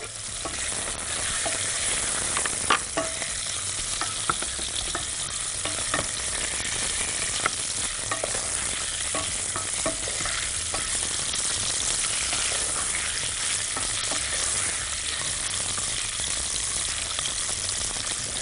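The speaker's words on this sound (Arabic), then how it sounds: "وبعدين هنزل باللحمه والبصل والجزر اهو كده واشوح، ومعاهم الثوم كمان." Meat with onion, carrot and garlic sautés in a pot, a steady loud sizzle and fry broken by scraping stirs, heard alone and close.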